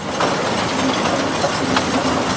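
A toy train pulls out of Howrah station near the rail museum, its steady rumble and rolling clatter close and continuous, with no talk.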